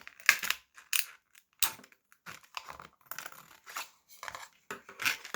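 Scissors snipping through thin plastic to cut out a homemade face-mask insert, a series of short crisp clicks and crunches in uneven bursts, close and fairly quiet with no talking.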